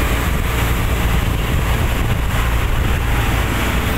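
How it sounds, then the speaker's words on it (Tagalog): Heavy sea waves churn and roar continuously during a super typhoon at dusk, a broad, rumbling wash of water and wind noise close to the microphone with no pauses. "Salaki pala ng alon, no?"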